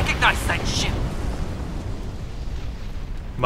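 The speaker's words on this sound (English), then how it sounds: "Those quad cannons are pretty nice, gotta say" A deep, rumbling burst of spaceship quad cannon fire in Star Trek Online, a booming roar that fades out, with a brief voice fragment at the start and end.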